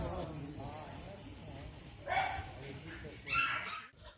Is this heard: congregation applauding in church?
no